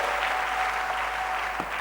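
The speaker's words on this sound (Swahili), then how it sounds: "Tumpikie Yesu makofi" A congregation claps for Jesus in a continuous burst of applause, dense and steady throughout the short stretch.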